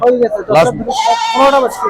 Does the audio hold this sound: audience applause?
no